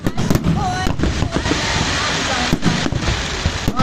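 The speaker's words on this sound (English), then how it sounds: "Hundreds of thousands of pounds worth of fireworks going off now." Halloween fireworks display in Derry, Northern Ireland, with a steady dense crackle and rumble of many shells bursting nonstop, loud throughout, a couple of whistling rockets rising, and a crowd and voices murmuring underneath.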